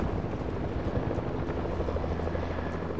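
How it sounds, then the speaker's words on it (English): Helicopter in the video game Fortnite, a steady low rotor thrum and engine drone holding at a constant level throughout, with no talking. "There's another helicopter."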